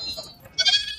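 Goats bleat at a livestock market in Kunnathur, two quick nasal cries in about a second, the second louder and closer, over a low background murmur.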